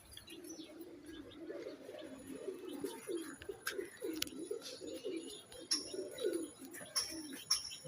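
Soft, continuous cooing of Naptha pigeons fills the scene, with a few sharp chirps and light knocks scattered on top.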